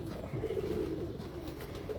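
Champion-breed pigeons at a rooftop loft coo softly in low, rolling murmurs, faint and continuous over a steady background hum.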